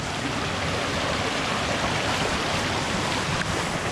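Steady, continuous rush of a small waterfall close by near Florián, Colombia, a broad even hiss with no voices and no pauses throughout.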